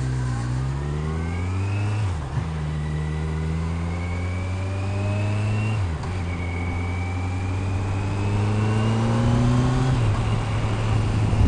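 A sport motorcycle engine revs repeatedly, each run climbing steadily in pitch before dropping back and rising again, loud and close with no talking.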